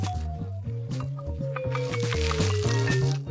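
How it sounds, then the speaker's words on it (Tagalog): Watermelon juice pouring from a tap fitted into a whole watermelon, a steady liquid trickle with rhythmic gurgling bubbles and rising fill pitch as it runs into a glass. "mayroon akong gripo. Ikakabit ko ito sa aking pakwan."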